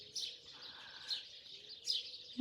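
Small birds chirp and tweet in short repeated bursts against a quiet background, fairly close and alone with no talk.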